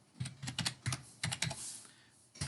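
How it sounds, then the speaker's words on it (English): Computer keyboard keys being pressed at a desk during road-design software work, an irregular run of crisp clicks and taps at close range with a brief pause before a final press, no voices. "so hit the enter key"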